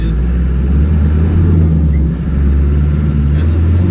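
A 1991 Land Rover Defender 90 with the 200Tdi diesel engine drives along, a loud, steady low engine drone from inside the cab with a brief dip where a gear change happens.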